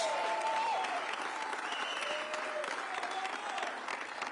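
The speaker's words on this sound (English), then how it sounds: "we can give them a round of applause" Audience applause at the unveiling of a carpenters union training center in Detroit, steady broadband clapping throughout with a few voices murmuring and calling out in the crowd.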